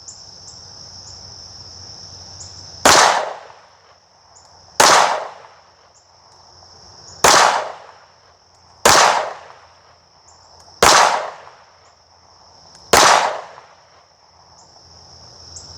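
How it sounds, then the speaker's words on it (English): Pistol fired at an outdoor range in a slow string of six sharp, loud shots spaced about two seconds apart, each with a brief decaying tail, over a constant high insect buzz in the background. "Shooter, you may begin firing when ready."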